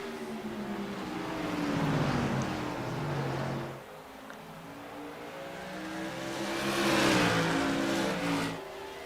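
Touring race cars speeding around a track. Engines swell and rev as they approach, pull away to a lower drone, then rise again in a second loud pass as another car roars close by.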